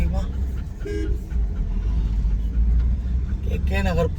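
A car horn toots in two short blasts, one early and one near the end, over a constant low road rumble of passing traffic on a drive toward Kovilambakkam.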